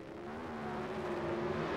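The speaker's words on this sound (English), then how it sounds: "Tremendous amounts of RPM from the engine as the accelerator goes to the floor and the clutch comes out" A Pro Stock drag racing car engine howls at high RPM at launch, a sustained droning roar with steady harmonic tones that grows slightly louder and nearer, no voices.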